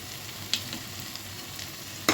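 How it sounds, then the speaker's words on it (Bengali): Tomato masala fries in a pan for tomato paneer, a soft continuous sizzle with a few sharp stirring scrapes near the start and end, close and without any talking. "আরও দু থেকে তিন মিনিট মশলাটা আমি কষিয়ে নেব"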